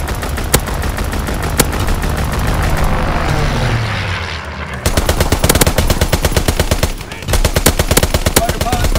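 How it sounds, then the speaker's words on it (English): Fighter plane strafing run in Call of Duty: WWII, loud rapid machine-gun bursts with a roaring propeller engine swooping past between volleys, then more sustained close gunfire. "Strafing run inbound."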